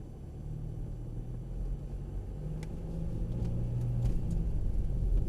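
A Mercedes-Benz 4x4 off-road vehicle climbs a hill on wet ground, its engine rumbling low and steady and gradually growing louder as it pulls up the slope, with faint clicks and knocks over the drone.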